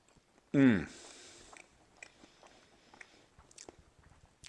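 Homemade soy pineapple jerky being chewed close up, with a short voiced sound at the start followed by soft, intermittent chewing and biting noises.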